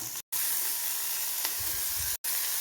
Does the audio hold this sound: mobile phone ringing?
no